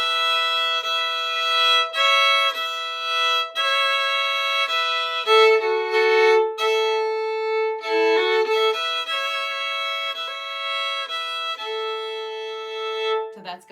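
Solo fiddle plays the second phrase of the old-time tune Liza Jane, a steady run of sustained bowed notes with clear harmonic tone, close and alone with no talking.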